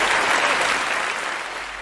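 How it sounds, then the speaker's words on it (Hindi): Loud, dense applause from a studio audience welcoming a guest onto a health radio show, a steady wash of clapping that fades slightly at the end. "चलिए जोरदार तालियों के साथ स्वागत करते हैं"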